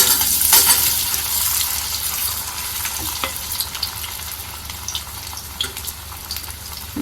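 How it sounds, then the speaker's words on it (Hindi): Pieces of taro shallow-frying in desi ghee over a medium gas flame, giving a steady, loud, close sizzle with sharper crackles and pops throughout, and no talking. "इसको मैं हल्का सा शैलो फ्राई करूँगी, डीप फ्राई नहीं करूँगी।"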